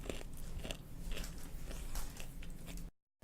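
A hard, not very crunchy french fry is bitten into up close, giving quiet, brittle crunching and chewing sounds before falling silent.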